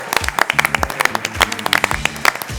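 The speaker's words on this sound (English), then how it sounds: "We can just keep the clapping going on this one." Audience applause at a grand pitch business competition, close and fairly loud, with individual sharp claps standing out in an uneven rhythm and a faint voice underneath.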